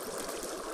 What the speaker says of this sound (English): Let's get into the water.